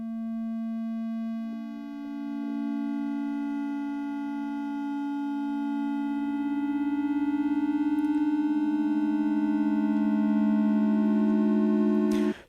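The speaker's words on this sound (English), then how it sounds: "So now we've got these same pan echoes, and listen to how this sounds." Synthesized sine-like notes with panning echoes stretched to a five-second fade smear into a steady, sustained harmonic drone, layered tones stacking and overlapping without breaks for the whole stretch, ending abruptly.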